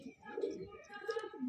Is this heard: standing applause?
no